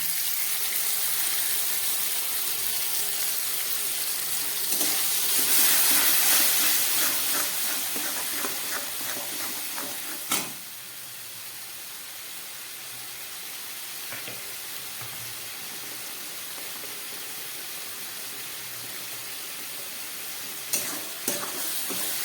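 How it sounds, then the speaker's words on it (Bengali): Spice paste frying with onions over medium heat in a pan, a loud hissing sizzle that swells as the paste goes in, then settles into steady frying with occasional spatula clinks and stirring, no voices. "এবার দিয়ে দিচ্ছি এই পেস্ট করে রাখা মশলাটা।"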